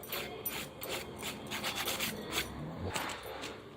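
Fingernails coated in dipping powder are filed with a rasping stroke, giving close, quiet, repeated scratchy rubs in an uneven rhythm with no talk.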